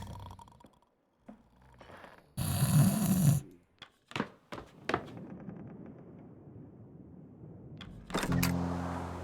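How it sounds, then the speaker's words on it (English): Sailors snoring below deck in the video game The Pale Beyond: a few loud, rasping snore bursts stand out among quieter creaks and clicks in a dim ship interior, with a final snore near the end. "The sounds of snoring are rather obnoxious."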